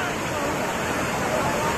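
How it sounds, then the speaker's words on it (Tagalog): Bunga Twin Falls in Nagcarlan, Laguna roars as a steady, dense wash of falling water, loud and close, with no break through the whole stretch. "Kaya tinatawag na twin falls kasi magkahawig talaga yung bagsak ng tubig niya"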